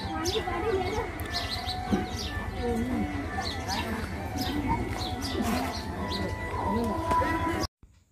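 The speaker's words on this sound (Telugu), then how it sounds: "విన్నారు కదా ఇక్కడ పక్షుల కిలకిల రాగాలు" Birds chirping and cooing around Kaleshwaram temple in Telangana: scattered light chirps and soft coos over a steady hum of background activity, with voices talking nearby.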